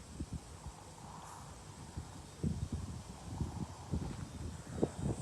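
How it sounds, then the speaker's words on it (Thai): Gusty wind buffets the microphone with low rumbling thumps while leaves rustle faintly in the background, growing stronger midway through. "ลมมาแรงมากทุกคน"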